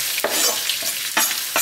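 Onions with herbs, spices and mustard seed frying in a pan, a steady close sizzle broken by several scraping strokes of a spoon stirring the mix.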